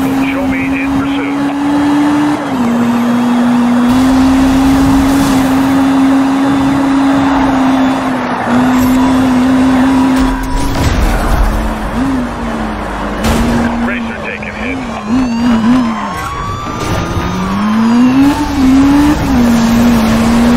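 A police pursuit car chase in the Need for Speed Rivals video game: loud, continuous engine roar rising and falling with gear changes, tire squeals and skids, and radio voices talking over it.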